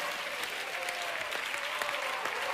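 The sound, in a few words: studio audience applause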